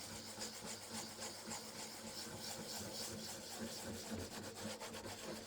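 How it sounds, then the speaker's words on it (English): Furniture being hand-sanded with very fine 1200 grit sandpaper over decoupage paper, a faint, steady scratchy rubbing that continues without break and with no talking. "Suddenly, when you sand them, it just suddenly looks part of the piece"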